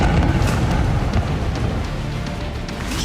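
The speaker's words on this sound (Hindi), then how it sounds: "फाइटर जेट के इंजन की तरह गरजती एक के बाद एक मिसाइलें आईं और धमाके होते गए।" Missile strikes explode one after another over Dnipropetrovsk, a dense continuous rumbling roar of blasts with heavy low-end boom and crackling debris, loud throughout with no pauses.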